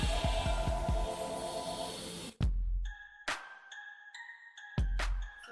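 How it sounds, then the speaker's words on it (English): A phone rings indoors in a short electronic ringtone of repeated high tones, fairly faint and broken by a few sharp clicks, after a stretch of busier background noise at the start. "now the phone's ringing, and that's gonna interrupt my video"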